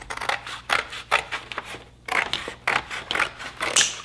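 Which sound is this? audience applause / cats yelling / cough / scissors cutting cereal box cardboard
scissors cutting cereal box cardboard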